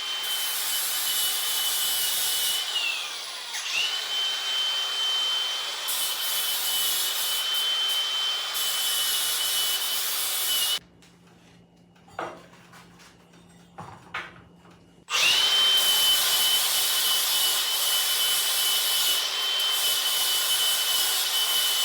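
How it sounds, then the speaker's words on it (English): An angle grinder fitted with a flap wheel scours rusty metal, a loud sustained abrasive whine that bends in pitch as it loads, breaks off for a few seconds of quieter knocks, then resumes at full strength. "take off the cutoff wheel from this grinder and put on this flapper wheel"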